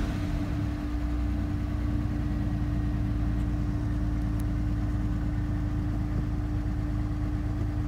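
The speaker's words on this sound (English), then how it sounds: "Right, it's running. It's running. Can you hear the exhaust?" A Vauxhall Vectra B GSi with a 2.5 V6 idles just after its first start in several months, a steady, close, droning engine hum with a constant low tone and no talk over it.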